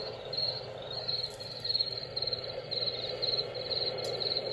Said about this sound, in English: So that is the cricket sound.